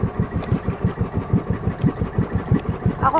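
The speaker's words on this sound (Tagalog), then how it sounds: "Yan, namatay ang makina." Small fishing boat engine chugging in a fast, steady rhythm of close, loud thumps, running evenly over the full stretch with no clear stall.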